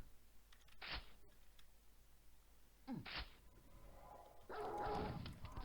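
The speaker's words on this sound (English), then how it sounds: "Yes, that dog would care to join in." Dogs in the Quake video game, nightmare mode, give short sharp growling barks, two separate bursts and then a longer snarling attack, over a low steady game ambience with no talk.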